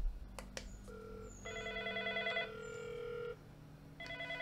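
A Fanvil video door phone places a call to its indoor station, which answers with a bright electronic ringing tone, steady repeating beeps in bursts with short pauses, clear and moderately loud in a quiet room.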